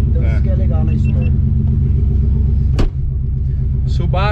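Subaru Impreza WRX with ceramic clutch and short shifter, its engine giving a loud, steady low rumble throughout, with a brief sharp transient near the end and people talking over it.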